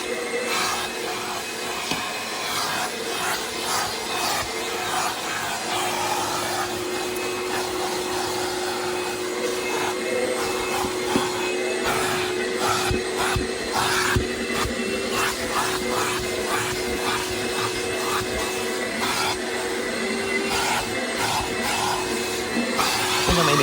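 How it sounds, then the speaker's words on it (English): A vacuum cleaner runs steadily throughout while cleaning the interior of a Nissan car, a loud continuous whine with rough scraping and sucking fluctuations as the nozzle moves, with no talking. "think I might need a stronger vacuum."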